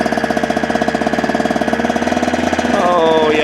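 A 2-stroke dirt bike engine held at low RPM pulses in a fast, steady, loud putter close by, then rises a little in pitch near the end.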